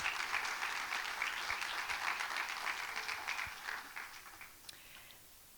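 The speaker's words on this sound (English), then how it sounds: "Let's give them a round of applause and welcome them here to Qatar Creates." Audience applause at a Qatar Creates fashion talk welcoming panelists onto the stage, a sustained burst of many hands clapping that thins out and fades toward the end.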